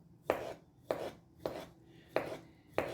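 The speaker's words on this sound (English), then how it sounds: "slice them up, cut them up into a few pieces" A knife slices peeled cucumbers into pieces on a board, producing five evenly spaced, crisp chopping strokes, close and fairly quiet, each with a short wet crunch.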